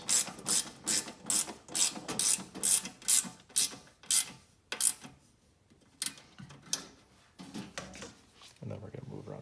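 A ratchet wrench tightens long bolts on a Jeep Wrangler JL rear door MOLLE panel with a rapid series of sharp, close clicks, pauses briefly, then clicks more slowly.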